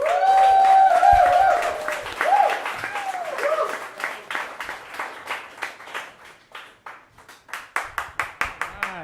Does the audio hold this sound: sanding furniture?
no